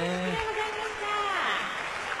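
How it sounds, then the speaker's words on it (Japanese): Large stadium crowd applauds a ceremonial first pitch thrown by a player's young son at a Japanese professional baseball game, a dense, steady wash of clapping with a commentator talking over it. "スタジ アムからも大きな拍手が送られています"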